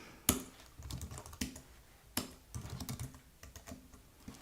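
Quick bursts of keystrokes clatter on a computer keyboard, with sharp clicks in uneven clusters, quiet and close, separated by brief pauses.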